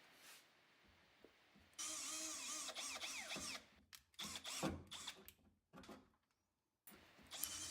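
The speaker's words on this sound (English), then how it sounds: "You then come back with a full-size drill bit" A power drill bores holes through the sheet-metal body of a Jeep Wrangler Rubicon while Warn rock sliders are fitted, heard as several close whirring bursts of varying length with short pauses between them.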